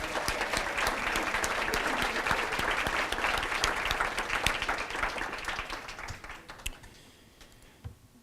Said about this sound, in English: one more collective round of applause for all of our students for voluntarily choosing to participate in this academic competition